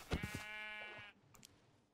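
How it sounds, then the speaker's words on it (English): A single faint sheep bleat comes from the RLCraft modpack of Minecraft. The wavering call lasts about a second and then fades into quiet game ambience, with no speech. "Come, sheep."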